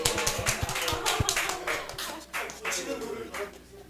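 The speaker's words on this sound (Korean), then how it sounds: "박수." A church congregation claps during a Sunday afternoon testimony service. The sharp claps come in quick uneven bursts with some taps and shuffling, and voices sound under them.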